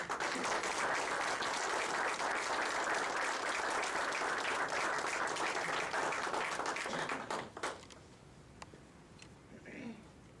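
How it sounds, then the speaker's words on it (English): An audience applauds at a high school Hall of Honor ceremony in a hall. Dense, steady clapping lasts about seven seconds, then thins and fades, and a speaker begins talking. "Round of applause for Sharon."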